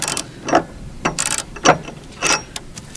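A large ratchet fitted with a long pipe for leverage works on a mower blade bolt, giving several separate clicking ratchet strokes with short pauses between them, close up.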